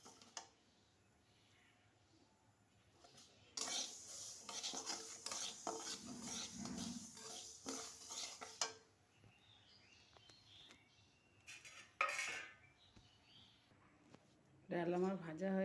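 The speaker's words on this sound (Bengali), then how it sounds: "খুব সুন্দর করে ডালগুলোকে আমি ভেজে নেব।" Moong dal frying in a pan while being stirred, giving faint intermittent scraping and sizzling bursts, with a voice heard at times.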